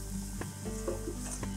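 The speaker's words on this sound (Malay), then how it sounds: "Kemudian tumis sampai naik wangi, sampai bawang tu garing dan warna keemasan." Onions frying in oil in a home kitchen pot, sizzling steadily with a dense crackling hiss, close and even throughout, with a few soft clinks over it and no voices.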